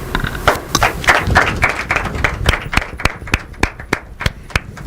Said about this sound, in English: Is that the way you clap for our judges?